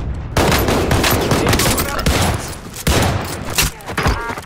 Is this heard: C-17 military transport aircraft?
no